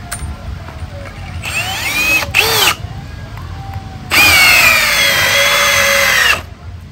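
Milwaukee 2804-20 cordless drill driving a 17 mm bolt about 15 cm long, loud close whining bursts that rise and fall in pitch, with a longer final run of motor and ratcheting strain.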